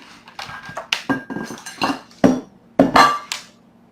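Glass casserole dishes clink and knock together while being moved about for planting pea and wheatgrass microgreens, a run of close, sharp clatters and bumps with no talking.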